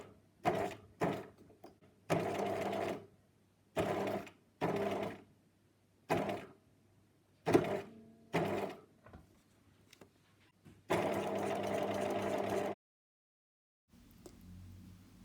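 A sewing machine stitches heat-transfer vinyl appliqué in short, separate bursts of rapid mechanical whirring, close up, with a longer run near the end and quiet pauses between bursts.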